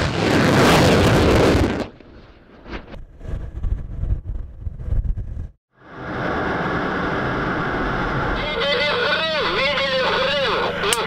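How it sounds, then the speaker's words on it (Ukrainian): A distant cruise missile explosion strikes a sea target some 80 km offshore during a Ukrainian Navy test launch, as a loud broadband blast and rumble that give way to excited shouting and cheering voices. "Видели взрыв!"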